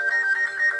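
A brief snippet of the stock Pegasus ringtone on a Samsung Galaxy Nexus phone, a bright electronic tone pulsing in quick wavering beats, clean and alone.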